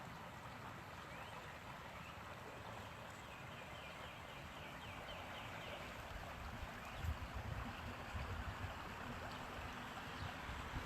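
A creek flowing outdoors along a walking path, heard as a steady, broad watery rush that fills the whole clip at an even, moderate level, with a few slightly louder splashes near the end.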